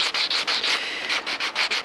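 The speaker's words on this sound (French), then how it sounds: "je vais commencer le ponçage au 180. Je le mets sur une cale à poncer en éponge molle pour épouser la forme du manche" Brisk back-and-forth rasping of 180-grit sandpaper on a soft sponge block working an epoxy-restored Opinel knife handle, close and loud, in quick rhythmic strokes of about eight passes.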